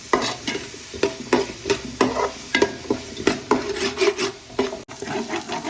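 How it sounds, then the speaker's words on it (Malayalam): Small onions (shallots) sauté in a pan for a chicken dish, with a spatula scraping in steady, rhythmic strokes over a low background sizzle, close and fairly loud, with no voices. "ഇനി നല്ലോണം ഈ ഉള്ളി വാടി വരണം"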